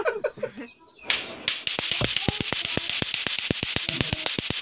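Teeth clacking together like a lato-lato clacker toy, a fast run of sharp, evenly spaced clicks that follows brief talk and carries on alone, close and fairly loud.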